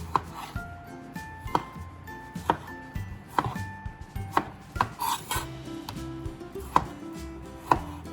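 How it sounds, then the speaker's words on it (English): A knife dices fresh tomatoes on a cutting board in crisp, regular chops about once a second, close and clear with no talking. "And then cut those into tiny dices. And we're gonna do that with both of these tomatoes."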